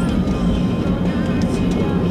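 Low, steady roar of an airplane passing close overhead, heard in Watari, Japan, loud and continuous throughout.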